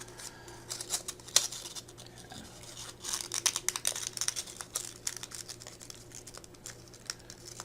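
Folded paper pattern block being pried open and unfolded with a paper clip, giving close, faint crinkling and scraping rustles in scattered bursts over a steady low hum.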